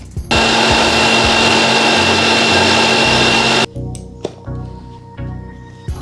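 A mixer grinder blending spices with a little water into a paste, a loud continuous whirring roar for several seconds that cuts off abruptly, followed by quieter knocks and scraping.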